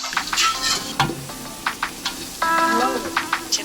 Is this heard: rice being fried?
yes